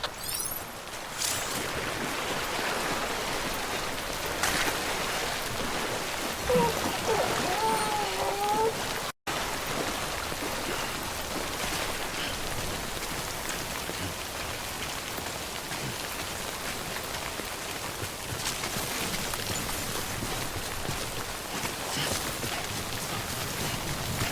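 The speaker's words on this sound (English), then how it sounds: "Don't stay out in the rain any longer than you have to." Timefall rain in the video game Death Stranding, a steady dense hiss of drops spattering on surfaces, continuous and fairly even across the whole stretch with only a momentary drop-out partway through.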